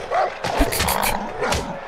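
Attacking dogs barking during a fight in the video game Far Cry New Dawn, a few loud, close yelps and barks mixed with impact noises.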